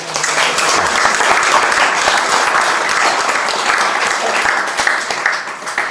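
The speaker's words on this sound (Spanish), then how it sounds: "Un aplauso para ella." Loud, dense applause from a lecture audience greeting the speaker at a Spanish-language talk on Shakespeare and film, a sustained even roar of clapping with no break.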